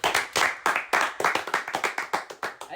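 A small group of people clap in quick, slightly uneven bursts, each sharp smack close and distinct, keeping a steady beat for a few seconds with no talking over it.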